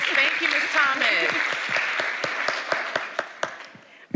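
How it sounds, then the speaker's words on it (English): An audience at a community forum on food access in Arkansas applauds a presenter, dense clapping at first beneath a few overlapping voices, then thinning to scattered individual claps that trail off. "Let's give Ms. Thomas a round of applause"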